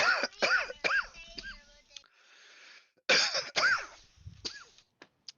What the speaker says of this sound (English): You detect the GM who's coughing